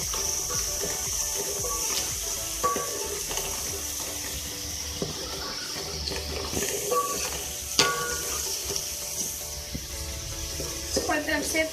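Onions fry in a pan for a green onion and chicken dish, a continuous sizzle with scattered clinks and stirring scrapes, and some faint voice in the background.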